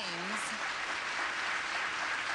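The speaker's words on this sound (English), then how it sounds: "They're giving him a round of applause because he's chastising the people that came before him" Sustained audience applause for Ahmadinejad at Columbia University, a dense, steady clapping wash from a large crowd that holds at one level before cutting off abruptly, with a faint voice briefly audible at the start.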